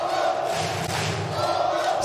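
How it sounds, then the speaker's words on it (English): A stadium crowd at a men's semifinal of a beach volleyball tournament in The Hague roars loudly and steadily, a dense wall of cheering and shouting for the Netherlands, with a single thud partway through. "The crowd get behind the Netherlands."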